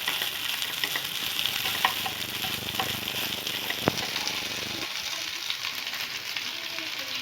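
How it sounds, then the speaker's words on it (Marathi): Spiced tempering being stirred into already cooked potatoes in a pan for a dry potato bhaji, a dense continuous sizzle with a spatula scraping through it and one sharp knock, close and loud. "ही सगळी फोडणी ह्या बटाट्यांना कोट होईस्तोवर आपण याला मिक्स करून घेणार आहोत."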